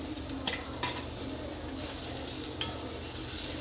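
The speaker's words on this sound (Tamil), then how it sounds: "இஞ்சி பூண்டு அதில் போட்டு வதக்கணும், நல்லா வதக்கணும்." Ginger and garlic sautéing in a pan, a steady close sizzle with a few sharp clinks of a spoon stirring against the metal.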